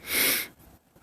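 A single short, forceful sneeze sounds close to the microphone, a breathy burst that quickly fades to quiet.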